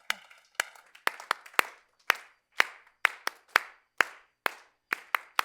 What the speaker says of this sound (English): let's start by giving yourselves a nice long round of applause.